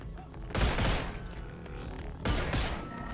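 Two handguns fire in rapid bursts in the VR game Boneworks, two loud clusters of overlapping shots about two seconds apart with ringing tails between them.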